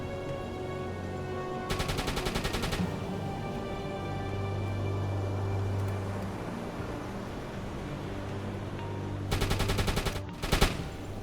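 Gunfire from a submarine deck gun at a ship in the naval game UBOAT, loud bursts of rapid shots near the start and again near the end over a steady low engine and sea rumble.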